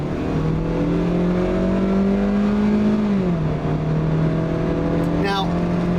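A 2013 Kia Rio SX engine drones loudly at speed from inside the cabin, a steady humming tone that holds then dips slightly, over dense road and wind noise.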